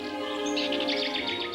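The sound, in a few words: crows calling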